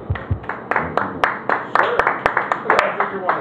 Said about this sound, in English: Still clapping for the singer.